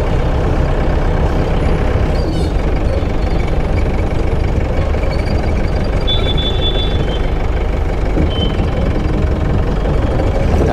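A modified jeep on oversized tyres drives past with a loud, steady engine rumble and road roar that fill the whole stretch without a break. No one speaks.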